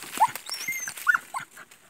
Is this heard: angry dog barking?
yes